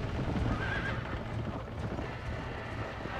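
A horse in the Western video game Red Dead Redemption gallops with drumming hoofbeats and lets out a short whinny, set against a rushing, windy background with no talk.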